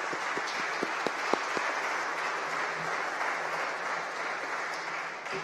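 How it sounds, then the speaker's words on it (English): A church sanctuary congregation gives the Raney family a round of applause: a steady, full wash of many hands clapping, with a few sharper individual claps standing out near the start. "let's give them a word of thanks for a round of applause for them"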